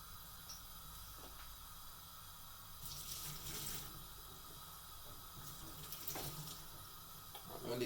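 Cooking water from boiled dumplings is poured off into a kitchen sink, making a steady hissing splash that rises and falls over several seconds, close and fairly quiet, with no talk over it.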